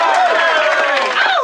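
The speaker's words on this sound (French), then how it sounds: "Vous pouvez vous applaudir" A group of children clap and cheer together in a continuous burst of applause, with high excited voices mixed into the bright, busy clatter of hands.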